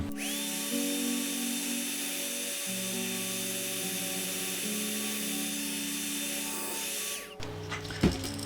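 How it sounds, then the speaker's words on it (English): A hairdryer drying airbrushed paint on a fishing lure makes a steady, loud motorized whir with a high whine for about seven seconds, shifts in pitch a few times, then cuts off with a clatter as it is dropped. "I'm going to go ahead and hit it with the hairdryer"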